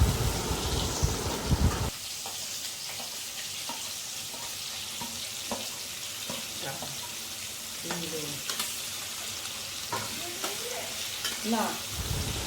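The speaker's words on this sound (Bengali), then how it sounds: "এবারে আমি কড়াতে পেঁয়াজ দিয়ে দেবো।" Chopped onions frying in a karahi for a home-style chicken curry, a loud sizzle when they hit the oil, then a quieter steady crackle with scattered scrapes and clinks of stirring.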